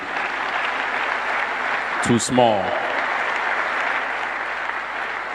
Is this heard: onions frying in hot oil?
no